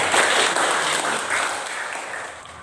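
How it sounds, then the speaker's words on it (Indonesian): A classroom audience claps for a presenter during a teacher training session, a short burst of applause that starts loud and gradually fades over a couple of seconds. "Kita kasih tepuk tangan untuk kakak"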